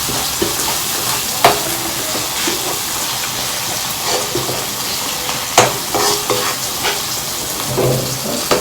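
Onion masala for a fish fry sizzles in a pan while a spatula scrapes and knocks against the bottom every few seconds, loud and close over a constant frying hiss.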